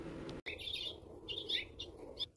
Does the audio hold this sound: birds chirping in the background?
yes